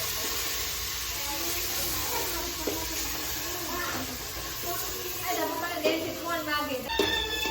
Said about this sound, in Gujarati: તો જો અહીંયા છે ને વઘાર કરી નાખ્યો છે.